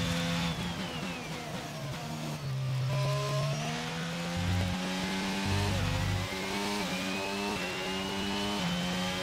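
Formula 1 car racing around Suzuka in a racing video game, its engine a continuous high-pitched whine that climbs and drops with gear changes, steady and prominent with no talk.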